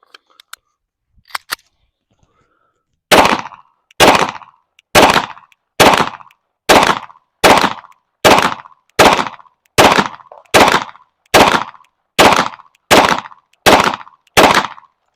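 A Palmetto State Armory Micro Dagger 9mm pistol fires Max Tech 124 grain full metal jacket rounds outdoors at a range: about twelve loud, sharp shots at a steady, evenly spaced pace after a few quiet clicks of handling.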